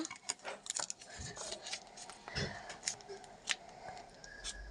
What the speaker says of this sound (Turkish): Evet açıyoruz hemen makasla.